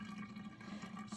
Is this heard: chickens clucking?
no